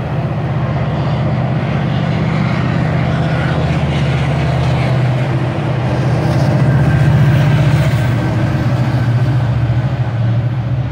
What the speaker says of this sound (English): That was the GO train.